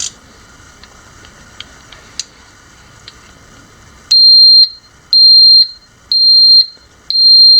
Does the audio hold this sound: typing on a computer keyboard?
no